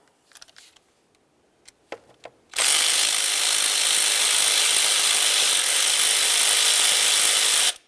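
A few faint clicks, then a loud steady mechanical whir runs for about five seconds as an 8mm mounting bolt is driven out on a 2009-2020 Dodge Journey during camshaft position sensor replacement. The sound is close and unbroken, with no talk.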